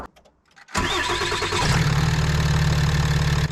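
A Ram 3500 Cummins diesel cranks briefly after a fresh oil change, catches loudly and settles into a steady, clattering idle, close up with no talking.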